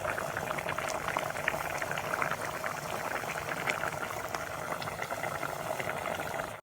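A Thai chili curry with paddy-field catfish at a full rolling boil in a pot, with close, dense, continuous bubbling that stays steady throughout and no speech.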